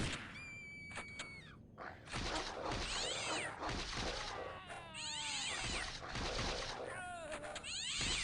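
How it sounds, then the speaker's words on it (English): Cats fighting in a video game, yowling and screeching in a series of loud, rising and falling caterwauls broken by short gaps, with a few thuds between the cries. "Sounds like the cats are tearing it up."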